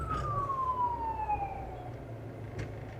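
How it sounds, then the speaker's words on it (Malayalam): An ambulance siren passes along a town road, a single descending wail that drops steadily in pitch as it moves away, fairly clear over a constant low traffic rumble. "ആംബുലൻസ് ആണ്ടേ പോണ്."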